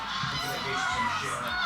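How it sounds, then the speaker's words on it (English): A flock of geese honks outdoors in the UK countryside, overlapping nasal calls repeating in quick succession, fairly close and continuous, with no speech over them. "She's loving all the geese."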